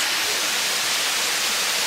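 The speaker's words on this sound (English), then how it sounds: "there's a waterfall right here." Steady broadband rush of a waterfall at night near a car campsite on a road trip, a continuous even hiss filling the whole stretch with no voices.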